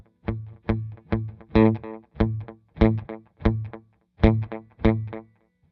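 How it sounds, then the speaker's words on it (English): An electric guitar played through a Wampler Ethereal delay pedal sounds a series of evenly spaced chords, each clear and distinct, with a short decaying tail after each strike. "Let's start with the delay."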